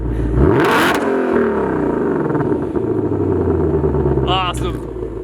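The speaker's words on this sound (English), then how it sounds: "now that you've heard the exhaust and the quiet, the normal, the sport, and the track mode" A 2020 Ford Mustang Shelby GT500 exhaust revs hard at close range, one sharp climbing blip near the start, then a steady loud rumble that swells again near the end.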